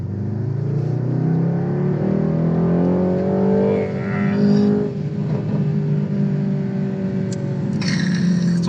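A Mercedes-AMG GT's engine and exhaust roar steadily from inside the car while driving, a loud, continuous deep drone that rises in pitch as it accelerates and eases back.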